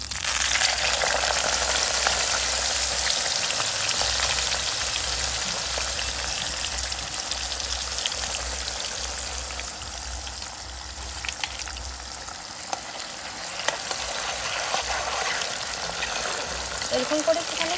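Banana slices frying in a small amount of oil for homemade chips in a village kitchen, a continuous close, bright sizzle with a few soft pops and faint stirring, steady and fading slightly near the end.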